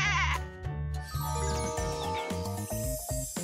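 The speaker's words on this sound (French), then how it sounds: "La chèvre va rester vivre avec Asha maintenant" A goat gives a short, wavering bleat at the very start, then loud layered music with bright chimes and tones takes over for the rest.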